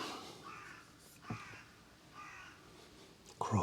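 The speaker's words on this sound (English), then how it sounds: "Crows here too." Crows cawing outdoors near the Tama River in the Okutama area of Japan, a few harsh calls spread across the clip with steady background noise, the loudest burst right at the end.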